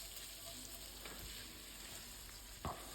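Paprika is stirred into a sizzling sausage casserole, a steady soft frying hiss running throughout with faint scrapes of the utensil and a brief louder clack near the end.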